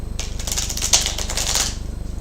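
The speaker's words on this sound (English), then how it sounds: "while I'm shuffling the cards" Tarot cards shuffled by hand for a reading, giving a dense run of crisp, close riffling and flicking for about a second and a half over a low, steady hum.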